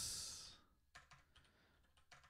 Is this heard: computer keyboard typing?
yes